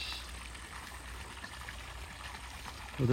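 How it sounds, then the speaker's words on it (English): Water flows steadily out of a 2-inch line fed by a well pumping from 500 feet and pours into a pond, a constant trickling rush, with a short louder burst at the end. "over here where the water's coming out, this is a 2-inch line"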